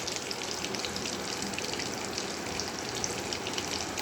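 Fish fry crackles and sizzles steadily in hot oil, a continuous bright hissing with dense popping texture and no pauses, close and moderately loud, with no one talking.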